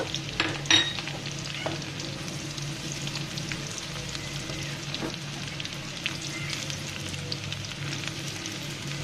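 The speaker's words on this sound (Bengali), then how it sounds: "পেঁয়াজটাকে আমি হালকা করে ভেজে নিব" Onions lightly frying in a pan for a vegetarian raw papaya dish, a constant close sizzle with occasional utensil scrapes and clinks as they are stirred, no talking.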